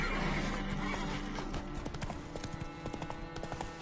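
Roach the horse in The Witcher 3 gallops with steady, rhythmic hoof clip-clops and lets out a neigh near the start, fairly quiet and heard alone.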